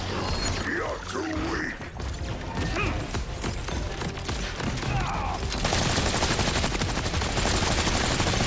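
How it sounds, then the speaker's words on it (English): Mounted guns in the video game Borderlands 4 fire rapid bursts of gunfire with mechanical clatter and impacts, growing denser and louder toward the end, with faint speech underneath. "My guns shot at him."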